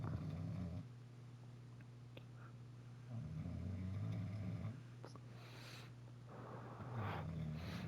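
A wife snores in the background, low rhythmic rumbling breaths in long drawn-out cycles, steady and fairly quiet, with no talking.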